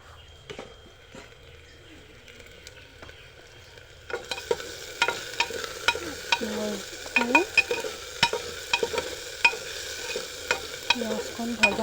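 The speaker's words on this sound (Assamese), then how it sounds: "পিঁয়াজখন ভজা হৈ গৈছে।" Sliced onion fries in a pan: after a few quiet seconds, a light sizzle rises with frequent close scraping and stirring strokes against the pan.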